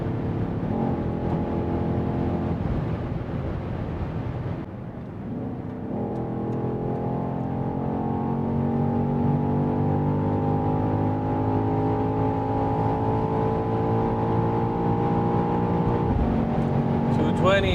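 A 2023 BMW XM, rated 653 horsepower, drones at high speed on the Autobahn, its engine note holding steady then climbing after a brief dip for a gear change, under a man's speech.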